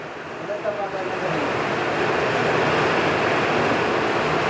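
A dense, steady roar of heavy rain pours down, swelling louder after the first second and holding at a constant wash.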